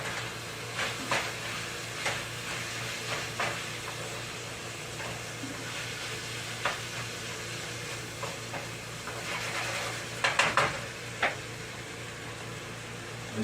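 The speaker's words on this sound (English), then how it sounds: "You stir that meat." Ground meat being stirred in a frying pan for a homemade pizza topping, giving a quiet, steady low sizzle broken by scattered scraping clicks of a utensil against the pan, with a faint hum underneath.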